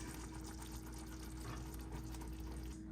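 Sauce boiling in a pot for a crockpot pot roast, a faint steady bubbling and gurgling with a low continuous hum beneath, uninterrupted and without talking.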